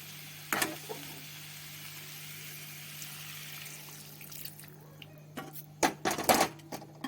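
Hot water poured into a pan of spiced cauliflower, potato and carrot, a burst of splashing and sizzling near the end after a quiet stretch of low background hum.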